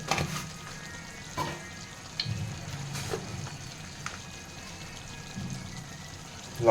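Spices, including coriander powder, salt and Kashmiri chili powder, fry in a pan over low heat for a wedding-style mutton kosha, making a soft continuous sizzle broken by occasional scraping stirs and small clatters.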